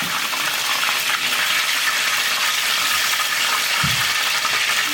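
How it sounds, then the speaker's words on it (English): Steady, loud sizzling and crackling of food deep frying in hot oil, with a couple of soft clinks partway through. "It's deep frying."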